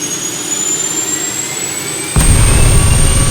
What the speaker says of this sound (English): So we're gonna fire the jet up.